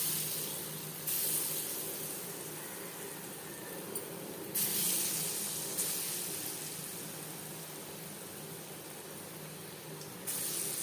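Chickpea-lentil fritters frying in hot refined oil give a steady, even hiss throughout, with a few brighter bursts of sizzle when fresh batter drops in; no voices.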